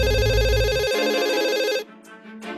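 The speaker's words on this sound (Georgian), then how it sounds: "ვიღაც რეკავს." A telephone rings with a loud melodic electronic ringtone that plays steadily, then cuts off and leaves fainter trailing tones.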